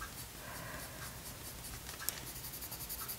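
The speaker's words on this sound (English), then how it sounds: "you can kind of hear how the pencil like rubs on it, because there's enough tooth" Coloured pencil rubbing across toothy Saunders Waterford 140lb hot-pressed paper, a faint, close scratchy hiss in short repeated strokes with one small tap.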